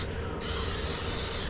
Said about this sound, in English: we do gotta put on some spray